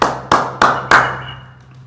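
Three sharp hand claps about a third of a second apart, each ringing briefly in a reverberant space over a steady low hum, with no talking.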